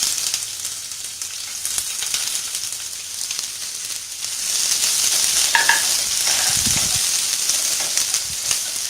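Sliced onions hit a pan of frying ginger, and the hot sizzle grows louder halfway through. Spoon stirring and a few scraping clatters sit over the dense crackle, with no talk.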